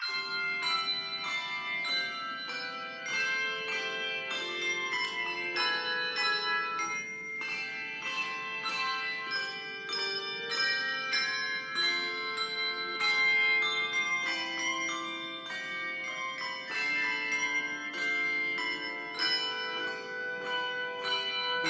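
A handbell choir rings handbells, with advanced ringers each handling several bells. Overlapping bright, sustained chiming tones sound steadily and evenly throughout, with no talking.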